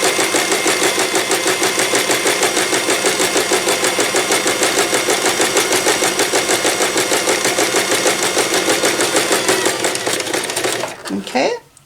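A sewing machine runs a steady straight stitch of about 2.75 mm along a drawstring bag seam, its fast even needle rhythm continuous and close for roughly ten seconds before slowing to a stop.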